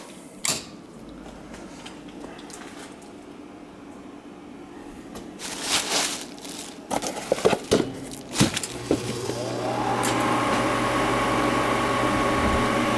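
A gas boiler that would not heat, fitted with a replacement wheel, gives scattered creaks and clunks, then fires up into a steady, even roar with a low hum that carries on to the end.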